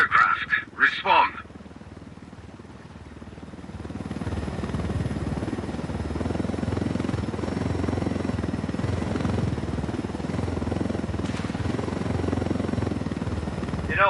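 A helicopter flies in Ghost Recon Wildlands, its steady rotor and engine drone running loud and continuous after a brief burst of voices at the start.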